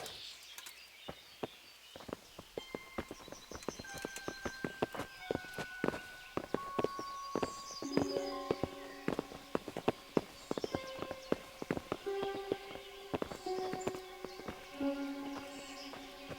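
Horse hooves clip-clop steadily on the ground in the medieval video game Kingdom Come: Deliverance, several animals walking close by under soft orchestral music.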